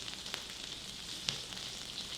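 Chicken fries in a pan with a steady, close sizzle of hot oil, broken by a few louder pops and spits, and no one speaking.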